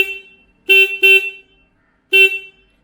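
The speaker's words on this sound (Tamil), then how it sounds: "இது வந்து நார்மல் கீக்கி ஆன் தான்" Stock horn on a KTM 390 Adventure motorcycle, sounded in three short, loud, close honks: two in quick succession, then a single honk after a pause. No talking.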